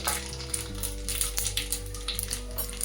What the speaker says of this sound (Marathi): तेल तापलेलं आहे त्याच्यामध्ये अर्धा चमचा मी मोहरी घेते